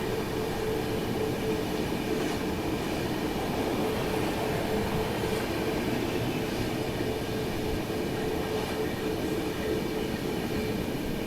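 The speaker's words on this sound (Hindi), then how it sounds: "तो ये है यहाँ पे सिया राजधानी मुंबई की ओर जाते हुए।" A Rajdhani express train passes, a loud continuous rolling rumble of rail wheels with faint rhythmic clatter, heard steadily throughout without talking.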